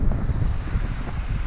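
Wind buffeting the microphone at Miami Beach near a sandbar, a continuous loud low rumble with gusty fluctuations and faint surf beneath.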